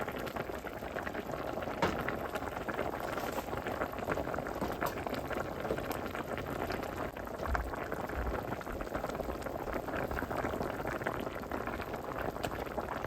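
Fish simmering in a pot of sothi broth before coconut milk goes in, a steady, continuous bubbling boil heard up close for the whole stretch, with no talking.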